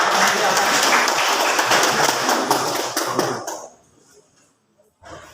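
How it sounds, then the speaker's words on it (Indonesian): Applause for a school debate team at a high school debate competition, dense clapping filling the room for about three and a half seconds, then fading quickly to near silence before a brief burst returns at the end. "mari kita berikan aplaus untuk tim Kontra"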